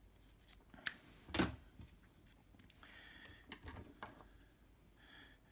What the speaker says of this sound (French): Je coupe l'excédent.